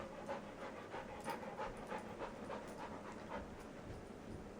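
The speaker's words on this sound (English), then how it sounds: "That's a lot of panting" A dog pants rapidly and rhythmically close by in an apartment, steady quick breaths repeating alone and fairly quiet throughout.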